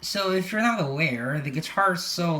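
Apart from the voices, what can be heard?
None of the usual background noises is heard.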